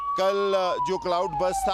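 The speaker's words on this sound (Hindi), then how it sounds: "पीछे आप आवाज़ भी सुन रहे होंगे एम्बुलेंसेस की" Ambulance sirens wail at the Baltal base camp during the Amarnath Yatra, a steady tone running in the background under a reporter's continuous speech.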